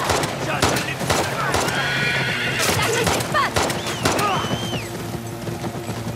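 Horses neighing and whinnying loudly in the video game The Last of Us Part II, with hooves clattering and gunfire-like bursts in a chaotic escape scene; several overlapping whinnies dominate the mix.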